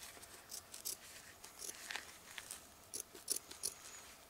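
Scissors snip a circle out of a rubber patch for a boot repair, making faint, sparse clicks and small cuts in an uneven rhythm against a quiet background.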